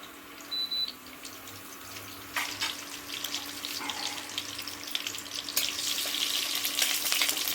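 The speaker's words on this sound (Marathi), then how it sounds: "आपण हे कढीपत्ता आणि मोहरी चांगली भाजून द्यायची" Curry leaves and mustard seeds fry in hot oil for an egg curry, a crackling sizzle that starts quietly with scattered pops and swells into dense, louder spitting toward the end.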